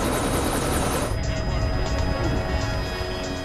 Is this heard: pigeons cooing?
no